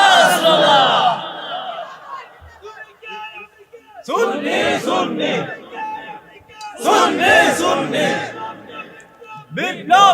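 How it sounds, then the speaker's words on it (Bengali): A crowd at a Bengali religious gathering chants slogans in unison with raised hands, loud bursts of massed voices coming in waves between pauses and a lone speaker's voice. "কারা কারা রাজি আছেন একটা হাত তুলে স্লোগান লন ইনশাআল্লাহ"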